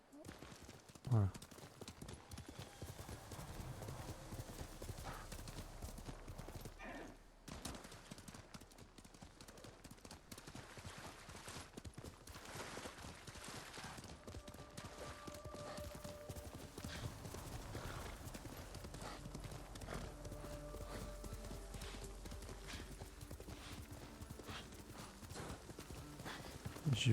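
Horse in the video game Ghost of Tsushima on PS4 gallops with steady rhythmic hoof clip-clops and an occasional whinny, continuous and close, while someone talks over it in French.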